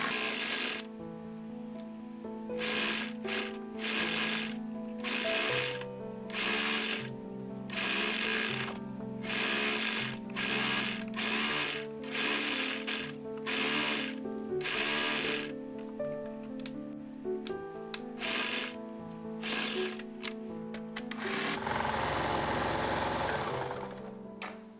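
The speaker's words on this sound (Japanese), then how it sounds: "洋服のはぎ目にロックミシンをかけます。" An overlock serger stitches the seams of a scalloped-lace skirt-culotte in bursts, a loud rapid whirring that starts and stops repeatedly, ending in a longer run.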